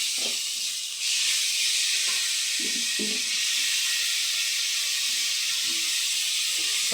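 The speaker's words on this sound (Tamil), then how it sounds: "நல்லா பச்சை நறுமணம் போகிற வரைக்கும் வதக்கணும்." Ingredients sauté in a pan with a close, loud, continuous hissing sizzle, punctuated by a few soft stirring knocks, with no talk.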